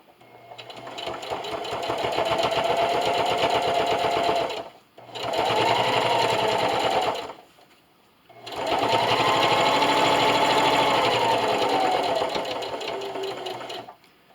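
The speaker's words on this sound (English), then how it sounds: "I'm going to remove my clip here, and just keep sewing." A sewing machine runs in three long continuous bursts while stitching a fabric roll-up silverware holder, humming steadily and close, with short pauses between runs and no talk.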